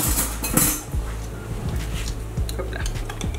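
A utensil stirs a cold sauce in a bowl, giving steady scraping and light clinks against the dish at close range over a constant kitchen hum.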